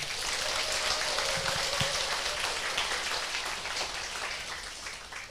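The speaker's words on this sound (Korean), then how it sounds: "여기 오신 나 자신에게 큰 박수 한번 보내주세요." Audience applause at a Korean seminar on success and becoming wealthy: dense, steady clapping fills the whole stretch at an even level, with no voices over it.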